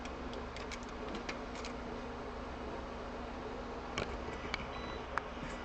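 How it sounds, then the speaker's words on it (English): A small electronic device, likely an insulin pump, gives faint, sparse beeps and ticks in a quiet room, alone with no talking. "Yes, I know you're beeping over there."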